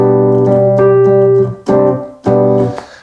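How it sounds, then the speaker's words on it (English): A Nord Electro's Rhodes 1 electric piano patch plays three sustained chords: one long held chord, then two shorter struck chords that ring and fade, clean and alone. "And now we're back to Rhodes 1."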